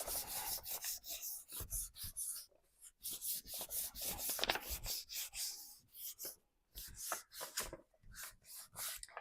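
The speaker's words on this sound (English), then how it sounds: "let's give this a better rub" Hands rub firmly over a gel print being pulled from a painted stencil, a run of close, dry scrubbing strokes in quick irregular rhythm with a few brief pauses, quiet overall and without talk.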